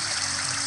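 Steady rushing flow of river water running through an old subway tunnel in the audio game Blindscape, a continuous broadband wash with a low hum beneath, no voices.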